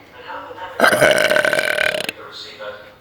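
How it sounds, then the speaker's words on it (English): A loud, drawn-out burp lasting over a second, up close, with brief voices just before and after. "I'm gonna burp."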